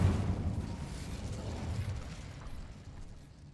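An Incendio fire spell goes off in the Hogwarts Legacy game as a heavy, rumbling whoosh that swells at once and then fades slowly over a few seconds, with no voices.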